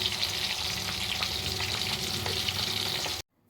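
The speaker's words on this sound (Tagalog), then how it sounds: "Yan, piniprito pa lang." Tilapia fish frying in hot oil gives a loud, close, continuous crackling sizzle with scattered pops, steady for about three seconds before cutting off abruptly to near silence.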